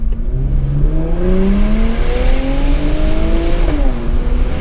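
A 2019 Infiniti Q60 Red Sport 400 with its 400-horsepower engine accelerates hard, engine note climbing steadily through the revs, with a brief dip at a gear change before rising again, loud and close with no talk.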